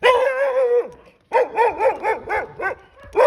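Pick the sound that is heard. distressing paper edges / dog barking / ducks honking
dog barking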